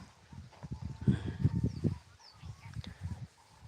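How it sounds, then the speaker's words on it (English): Birds call outdoors on a village morning, with honking, goose-like squawks repeating in bursts at moderate distance over steady background noise. "I love the sounds of the birds."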